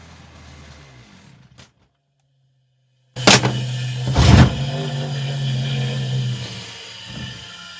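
After a brief silence, the small petrol engine of an AL-KO BC 4535 string trimmer, with an ignition fault, starts and runs loudly with a steady buzzing drone, rising briefly in pitch before settling.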